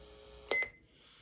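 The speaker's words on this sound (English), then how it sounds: "The button beeps are very annoying after a while" A single short electronic button beep from a Midland 74-100 weather radio, clear against a quiet background hum.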